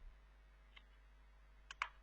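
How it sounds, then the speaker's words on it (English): Several quick light clicks of typing on a computer keyboard, faint and sparse against a quiet steady hum, ending in a short pair of keystrokes. "here I'm just typing"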